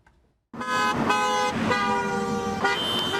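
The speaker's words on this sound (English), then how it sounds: "With each car that passes," A car or truck passes on a quiet neighborhood street, Little Turtle Way, its loud steady road noise starting abruptly and holding, with a brief horn-like tone in the mix.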